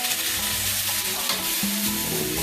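Chicken sizzling loudly in a pan, a constant close frying hiss with a few stirring scrapes, no talking.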